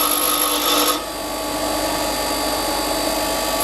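Steady hand filing or sanding of a piece in a home garage, a continuous close raspy scraping that carries on alone throughout.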